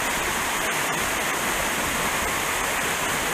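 A cascade tumbling down a small mountain stream in a forest, a loud, dense, unbroken rush of falling water heard close by and alone.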